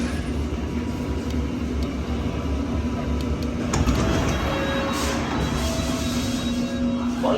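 A London Underground Amersham service train rumbles steadily from inside the carriage, a constant low drone with faint squeals and rattles, close and even in level throughout, with no speech.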